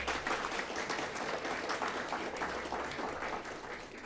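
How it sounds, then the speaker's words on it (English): An audience applauds in a steady, even patter of many hands clapping, moderately distant and sustained, with no speech over it. "they do deserve a round of applause"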